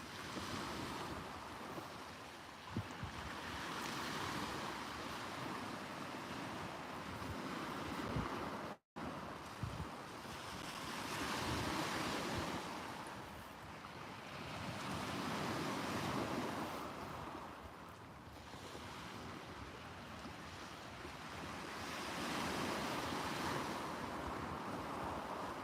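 Steady wind buffets the microphone on a West Sussex beach while surf rolls in with broad swelling washes that rise and fall every few seconds, continuous and fairly loud, with a brief dropout partway through.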